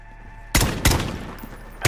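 Gunfire in the video game Call of Duty: Black Ops Cold War, three loud close shots, the first two close together and the third near the end, with no talk.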